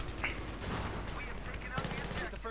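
Battlefield 3 gameplay gunfire with grenade spam, rapid bursts of shots and sharp cracks at moderate level, clustered near the start and again late, over a constant low rumble.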